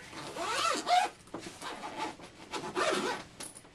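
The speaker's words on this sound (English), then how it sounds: "Zip myself up here." A packed bag is zipped shut in several quick rasping pulls, close and clear, with short pauses between strokes.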